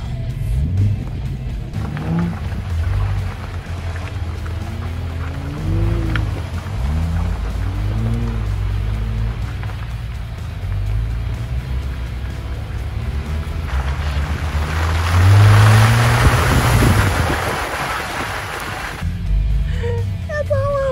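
Jeep JL mudding, its engine droning and revving steadily while tires churn and squelch through thick mud, loud and continuous, with a rushing splashy surge near the end.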